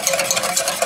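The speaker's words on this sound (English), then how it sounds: "I'm going to add the miso paste, 1 tablespoon. Okay, I'm adding it. And I'm going to use a whisk" A wire whisk stirs a tablespoon of miso paste into hot chicken bone broth, giving a steady, close swishing and light scraping in quick repeated strokes with no voices.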